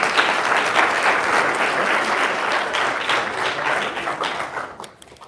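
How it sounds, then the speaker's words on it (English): Sustained applause from an audience at a college of management event for five teams, steady dense clapping that thins out near the end. "Another round of applause for all 5 of our teams."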